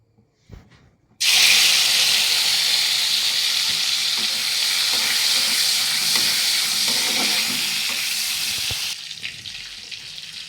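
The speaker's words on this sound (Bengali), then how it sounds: "প্রথমে আমি এটা ভেজে নিই" Prawns fry in hot oil in a wok, a loud, steady, close sizzle that starts suddenly after a brief quiet moment and continues evenly for about eight seconds before easing off.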